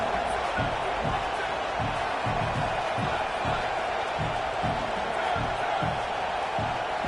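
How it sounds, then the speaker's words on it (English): Football stadium crowd roars continuously at a steady moderate level, with repeated thumping stomps or claps pulsing through the din. "with this place rocking, the crowd forces a false start"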